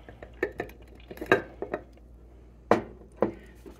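Sourdough starter being mixed with flour and water in a container, a series of irregular clinks and knocks of a utensil against the side, close and moderately loud with short pauses between.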